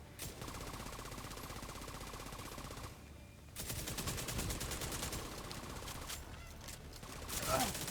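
Light machine gun fire from Call of Duty rattles in long, rapid, sustained bursts at moderate volume. It stops briefly and then resumes in a second extended stream of automatic shots.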